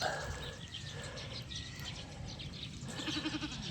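Goats bleat intermittently at a moderate distance, wavering calls over outdoor background noise, with a faint bird chirp near the end.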